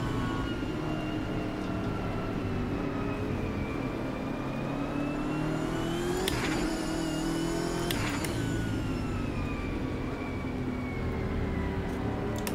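A BMW M6 GT3 racing engine lapping the Nordschleife in the Automobilista 2 sim, a steady droning roar with rising and falling pitch through gear changes, loud and continuous throughout with no talk.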